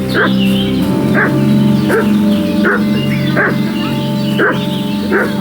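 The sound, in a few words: dog barking in the video game Kingdom Come Deliverance 2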